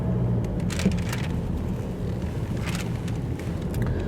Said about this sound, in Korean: 이제 한번 밟아 보겠습니다